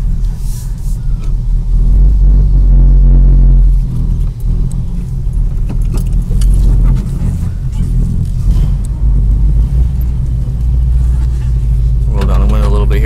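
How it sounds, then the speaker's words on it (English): Cold car engine idling smoothly, a steady low rumble throughout the clip with a person talking over it. "It's the cold motor and still idles nice and smooth."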